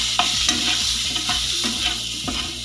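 Egg masala gravy with mutton masala, turmeric and coriander being stirred in a pan, a steady frying sizzle under repeated rhythmic scrapes of the spoon, close and fairly loud with no talking.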